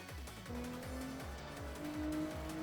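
Revving engine and squealing tires as a JDM car loses traction through a touge corner in a racing video game, with repeated rising engine notes and sustained tire squeal, loud and close.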